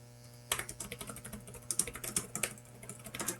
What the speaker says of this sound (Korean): 평소 타이핑을 하듯이 그냥 키보드를 사용하면 되거든요